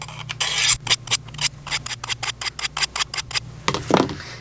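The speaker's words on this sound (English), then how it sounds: "I'll do some more passes on the coarse, and then I'll change it out to the fine ceramic rod." A knife blade drawn repeatedly along the coarse ceramic rod of a Work Sharp Field Sharpener, giving a steady series of short, close raspy strokes at an even rhythm with no talking.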